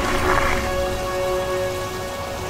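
Steady, loud rain pours down on a surface as a radio drama sound effect, a continuous dense patter with no voices.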